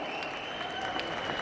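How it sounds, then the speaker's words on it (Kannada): Audience at a Kamal Sridevi film pre-release event breaks into sustained applause, a dense, steady wash of many hands clapping throughout with no pauses. "ದಯವಿಟ್ಟು ಜೋರಾದ ಚಪ್ಪಾಳೆಯೊಂದಿಗೆ ಇವರೆಲ್ಲರನ್ನ ಕೂಡ ನೀವು ಪ್ರೀತಿಯಿಂದ ಸ್ವಾಗತಿಸಬೇಕು"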